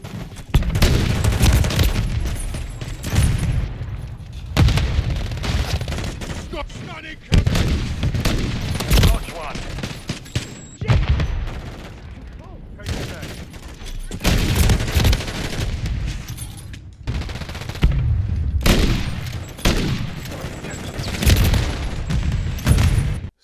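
Rapid repeated shotgun blasts from a Lockwood M2 fitted with JAK Wardens firing 410 gauge shells in a first-person shooter video game, dense booming volleys in bursts with brief pauses, with a voice talking over them.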